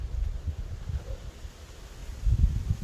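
Wind buffets the microphone in low rumbling gusts, stronger at the start and again near the end, with no voices.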